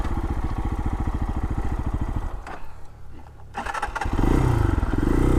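A Lifan KPX 250 motorcycle engine idles with a close, rapid, even putter, then sputters and dies into a brief lull before the motor roars again, loud and near.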